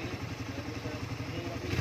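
A Suzuki Raider 150 Carb motorcycle riding through floodwater in Bacoor, a steady close engine idle with a pulsing low rumble, someone talking over it.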